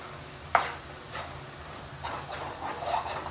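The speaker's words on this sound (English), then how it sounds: "Keep mixing until the egg becomes scrambled nicely." Egg and green vegetables sizzle gently in a pan while being stirred, with soft scraping strokes and one sharper clink of the utensil over a steady frying hiss.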